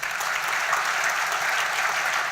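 Steady, full applause from a conference audience, dense and loud throughout a short burst with no talking over it.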